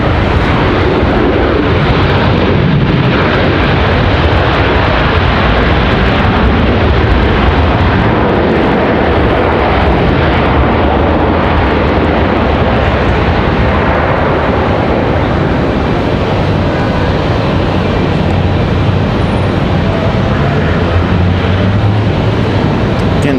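A Delta jet airliner from Salt Lake at Raleigh Durham airport makes a loud, steady broadband rumble, sustained without a clear pass-by.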